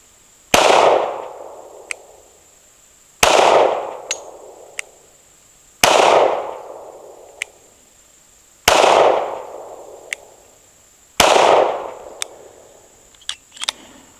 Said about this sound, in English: 5 shots at 10 yards